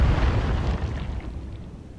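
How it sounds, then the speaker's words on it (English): Missile explosion in the Cold Waters submarine game, a single loud deep boom at the start that rumbles and slowly fades over about two seconds, with no talking. "That sounded like an explosion. Hitting something."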